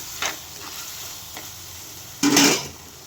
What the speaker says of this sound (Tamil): கொஞ்சம் ஒரு கிளறு கிளறி விடுவோம்